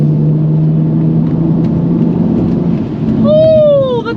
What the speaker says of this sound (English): the turbo flutter and the blow-off valve all in one!